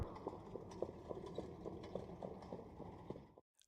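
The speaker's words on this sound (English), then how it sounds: "Again, horsemen come to the track for race 3." Harness racing horses walk onto the track at Hawthorne, their hooves striking in a steady, close clip-clop rhythm that continues for a few seconds before cutting off, with no talking.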